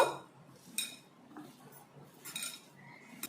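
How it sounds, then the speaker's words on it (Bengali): Onions, lentils and spices mixed by hand in a bowl, soft squelching and scraping with faint clinks, quiet and close with no talk. "এইভাবে মিশিয়ে নিচ্ছি ডালের সাথে পেঁয়াজগুলো আর সমস্ত মশলাগুলো ভালো করে মিশিয়ে নিচ্ছি।"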